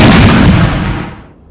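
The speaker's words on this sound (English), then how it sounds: "they're getting blasted by like multiple artillery batteries over a load of 8-pounders, just blasting away" Artillery batteries of 8-pounder cannons fire in the game Napoleon Total War during the Battle of Sacile, 1809, making one close, loud, booming blast that rolls off and fades over a second and a half.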